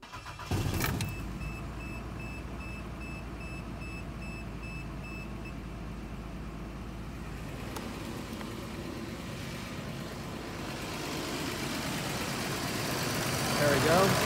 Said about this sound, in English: I'm going to go ahead and start up the engine, and we're going to hear how good it sounds.